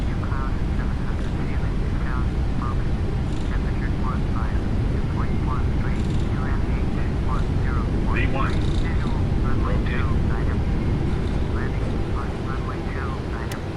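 Twin jet engines of a PMDG 777-300ER at takeoff thrust in a flight simulator, a loud steady roar with broadband rumble throughout, while a voice speaks over it.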